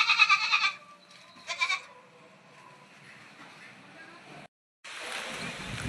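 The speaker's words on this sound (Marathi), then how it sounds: "आता शेळ्या सोडल्या मी, शेळ्या चालल्या चरायला आता." Goats bleat loudly at close range as they are let out to graze, a long call at the start and a second burst soon after, then quieter farmyard background noise with a brief dropout and a rush of noise at the end.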